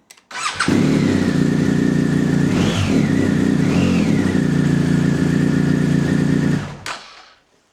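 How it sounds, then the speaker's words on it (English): A BMW motorcycle engine cranks and fires, then idles loudly and evenly nearby with two short rising revs before shutting off, no talking over it. "you can go ahead and start the bike"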